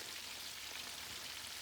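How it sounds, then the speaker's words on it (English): Chicken deep frying in hot oil, a soft, steady crackling sizzle with fine bubbling texture, continuous and fairly quiet with no talking. "I'm technically deep frying."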